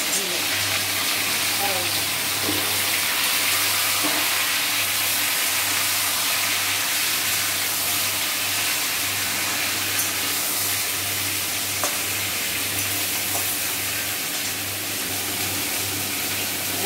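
Vegetables for sukto sizzling steadily in a pan, a continuous loud hiss with a faint low hum and no pauses.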